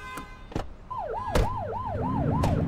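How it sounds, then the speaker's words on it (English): A police car siren in the video game The Precinct wails in a rapid rising-and-falling yelp, repeating about six times, loud and close, following a few sharp clanks and thuds over low engine rumble. "Turn that siren off."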